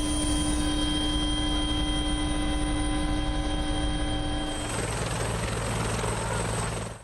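A rescue helicopter evacuating flood victims produces a steady, heavy rotor drone up close, loud and continuous, shifting in tone near the end.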